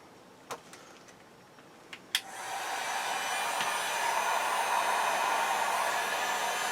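Two-speed heat gun switched on at its low setting to heat a Marttiini Folding Lynx knife, a few small clicks and then a steady, moderately loud blowing rush that continues evenly at close range.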